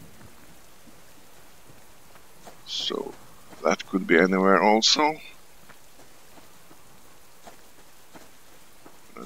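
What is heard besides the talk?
rain falling in the video game Subsistence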